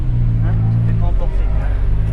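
A Porsche drives a first lap of the Nürburgring Nordschleife on a track day, its engine a loud, steady low drone with no talk over it.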